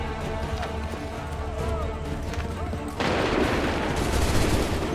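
Soldiers fire a musket volley in Assassin's Creed 3: shouted commands give way to a sudden, sustained burst of dense, crackling gunfire that fills the last two seconds loudly.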